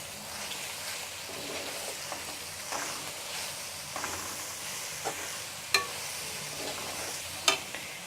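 Cabbage and tomato are stirred in a frying pan, a soft continuous sizzle with scraping strokes and a couple of sharp utensil clinks against the pan, faint and close, no talking.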